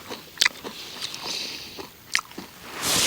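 Crunchy kimchi is chewed up close during an outdoor meal with soju on a backpacking trip at 1,150 m, with a few sharp bites and wet chewing over faint ambient noise.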